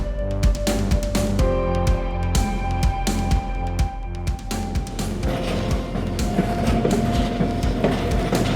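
White Pass & Yukon Route excursion train rolling along its mountain line, a loud continuous rumble with rhythmic wheel clacks and rattling cars throughout, no voices.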